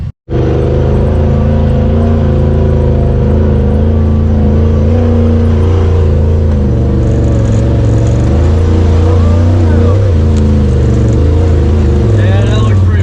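A stock Polaris RZR side-by-side runs in automatic mode on a muddy off-road trail, its engine droning steadily with pitch shifts as it changes gears, close by under people talking.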